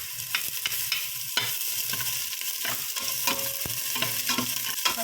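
Onions fry in a hot pan, a continuous sizzle broken by repeated scraping stirs of a spatula, fairly close and without voices.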